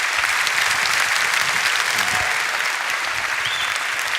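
A large audience applauds Brian Greene and Richard Dawkins at a debate event, a loud, sustained wash of many hands clapping evenly from start to finish, with no voices on top.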